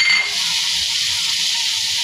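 Washed shrimp hit a hot pan of fried spices and chili, giving a loud, steady, hissing sizzle throughout with no voices.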